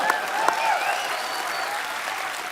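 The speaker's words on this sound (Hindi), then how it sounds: "जोरदार तालियां।" A television comedy studio audience breaks into steady, loud applause that holds evenly throughout, a dense wash of clapping with no pauses.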